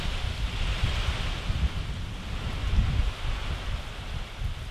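Hurricane-force wind surges through trees in a steady, roaring wash with rustling gusts, loud and continuous, with no voices.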